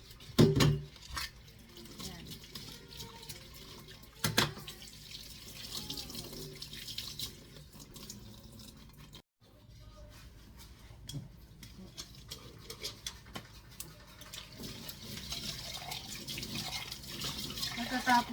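Tap water runs faintly into a sink during washing, a soft uneven splashing with occasional louder bursts, heard under a person's talk.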